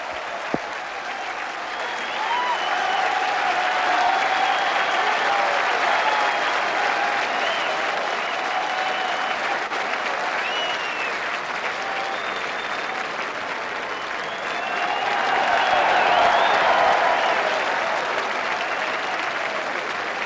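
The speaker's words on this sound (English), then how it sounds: "What a reception for the winner of the Arc de Triomphe, Montjeu." Sustained applause and cheering from a large racecourse crowd fill the air, greeting Arc de Triomphe winner Montjeu in 1999, swelling and ebbing in waves without pause.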